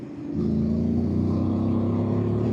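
Voge DS800X Rally adventure motorcycle engine pulling after the throttle is rolled off and reopened in sport mode: a low, steady, rising drone that swells in quickly and holds, heard close without any voice over it.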